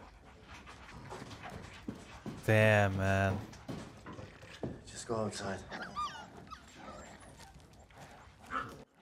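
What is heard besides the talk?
dog panting and whimpering in TV show Chernobyl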